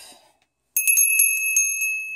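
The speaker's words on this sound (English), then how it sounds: "So the bell goes here." A small brass altar bell on a Wiccan altar rings out, a bright sustained tone with several quick repeated strikes that fade slowly, after a brief faint noise and a short silence.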